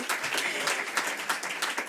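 Audience applause at a Local2030 Coalition meeting, a steady crowd clapping that stays dense and even throughout, loud and close with no talk over it.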